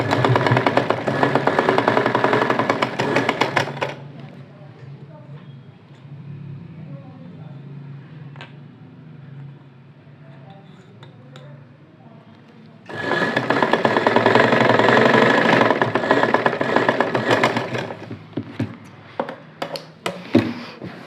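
A sewing machine stitching the hem of ready-made pants runs loud and steady in two long bursts of rapid needle chatter, with a quieter stretch of handling noise between them and a few final short pulses.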